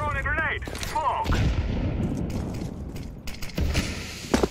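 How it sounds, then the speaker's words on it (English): Dense burst of in-game gunfire and impacts in CS:GO as a smoke grenade is thrown, with overlapping sharp cracks, a short electronic chirp, and a loud final pop close up. "I'm throwing a grenade! Smoke!"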